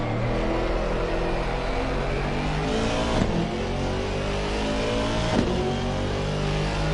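Race cars in Assetto Corsa Competizione, Aston Martin among them, accelerate toward a hairpin with a steady, loud engine roar. Gear shifts make rising whines, and there are no voices.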